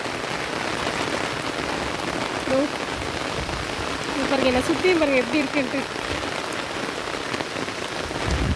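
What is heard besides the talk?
heavy rain pouring down in Salem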